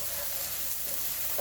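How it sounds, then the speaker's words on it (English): Chopped onion sizzling in hot olive oil in a pan alongside mushrooms for a chicken and broccoli stir fry, a steady close hiss and crackle with no break. "So you're going to put your onions in here, let it sizzle."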